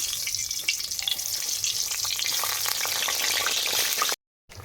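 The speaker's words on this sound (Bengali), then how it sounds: "এবার ওই লুচি ভাজা তেলে বেগুন আলু পটল ভেজে নেব" Eggplant slices crackle and sizzle steadily in hot oil previously used for frying luchi, a dense continuous hiss with a brief silent gap near the end.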